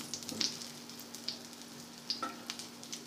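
Egg-soaked bread fries gently in a pan over low heat, a quiet, steady sizzle dotted with small crackles and pops, heard alone without talk.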